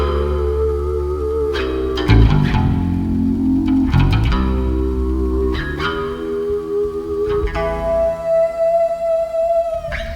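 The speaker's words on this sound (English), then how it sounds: "it takes whatever note you're playing, and it sustains it" A whammy-bar bass guitar note rings on with long, unbroken sustain from a Sustainiac sustainer pickup, a few plucked changes along the way, settling into a steady, harmonic-like tone toward the end.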